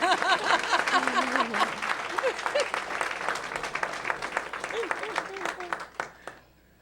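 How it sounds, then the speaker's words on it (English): Audience applause at a 2017 board of education meeting honoring a senior class, a sustained patter of many hands with a voice speaking over it early on, tapering off and fading near the end. "So we're just going to applaud her because I know she has done great things."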